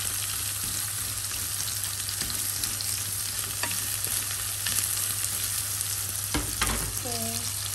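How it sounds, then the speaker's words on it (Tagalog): Onions sauté in a pan for sweet and sour fish, a steady close sizzle with occasional stirring scrapes and a brief clatter near the end. "Siyempre, lagay na natin ang ating sibuyas. Igisa lang natin mabuti yan."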